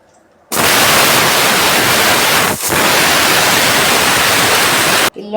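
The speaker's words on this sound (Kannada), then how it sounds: "ಮಿಕ್ಸರ್ದೊಳಗೆ ಹಾಕಿ ತೆಗಿಬೇಕು." A mixer grinder loaded with asafoetida, tamarind and curry leaves for chutney powder switches on with a loud, steady whirring roar, runs for several seconds with one brief dip, then cuts off abruptly.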